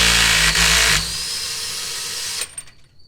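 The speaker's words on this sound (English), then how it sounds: "Finish removing this axle nut for real this time." A power tool whirs loudly for about a second while the axle nut comes off a BMW E92 M3 during differential and axle removal, then the noise drops to a lower hum before a few clanks and quiet.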